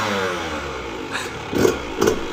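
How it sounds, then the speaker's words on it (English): An 85cc dirt bike, in neutral, is kickstarted and its small engine catches, then revs up in a couple of sharp bursts before settling into a steady idle, close by with no talk. "Now, I'm gonna kickstart it."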